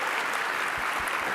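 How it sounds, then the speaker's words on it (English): An audience at a climate advocacy summer conference claps for a speaker, a steady even wash of applause from a room full of people with a few distinct claps standing out near the end. "Let's give a big round of applause to Dana, who knows all the things."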